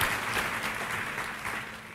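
A congregation claps for God during an Indonesian Sunday church service, a dense, steady burst of applause that stays fairly even and slowly fades over two seconds.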